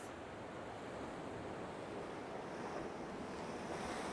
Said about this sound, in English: Swells are just dragging us into the rocks.